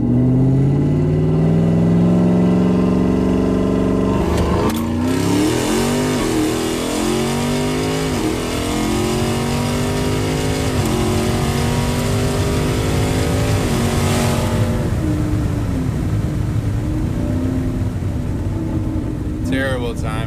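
A twin-turbo Ford F-150 pickup does a boost launch from about 3,000 RPM, its engine revving loudly through rising gear pulls with brief shift breaks, heard close up over an occasional voice.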